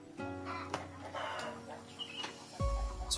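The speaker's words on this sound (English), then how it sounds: "Man's obviously got chickens as well." Chickens kept at a rural home in Indonesia cluck softly now and then in the background, with some faint voices and room sounds around them.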